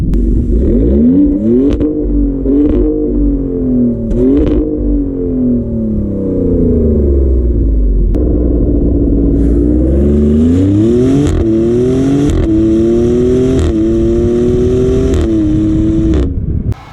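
A 2024 Maserati Grecale Trofeo SUV accelerating on the road, its engine rising through revs with upshifts and dips between gears, loud and close, with no talking.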